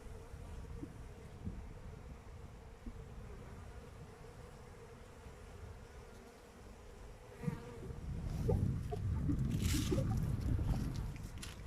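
Honeybees buzzing around their hives on a January day, a steady low insect hum throughout, growing denser and louder in the last few seconds as more bees take flight nearby.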